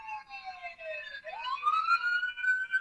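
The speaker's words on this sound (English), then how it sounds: "Let this ambulance go by." An ambulance siren wails nearby, its tone sweeping down and then climbing back up in a loud, clear passing cycle with no talk over it.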